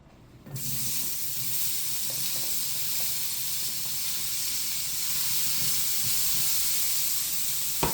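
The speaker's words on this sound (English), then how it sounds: "we're gonna fry up our veggies" Vegetables frying in a hot pan, a loud, steady close sizzle and hiss that starts suddenly and holds for the rest of the clip, with faint clinks and stirring underneath.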